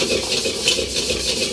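A metal spoon stirs and tosses food in a wok during stir-frying, giving a continuous scraping and clattering texture with a steady sizzle underneath, close and fairly loud.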